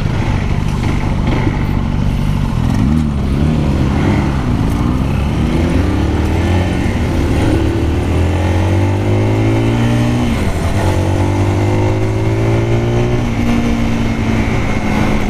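A Zontes R 350 motorcycle engine revs and accelerates through the gears on a launch-event test ride, loud and close, with repeated rising pitch sweeps over steady wind noise.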